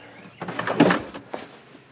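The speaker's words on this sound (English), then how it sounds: "they are on soft close ball bearing slides" A drawer built into an Aliner pop-up camper glides on soft-close ball-bearing slides. There is a brief rolling slide, then a muffled close and a second softer bump, heard close up.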